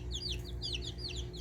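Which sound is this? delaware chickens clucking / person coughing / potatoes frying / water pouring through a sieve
delaware chickens clucking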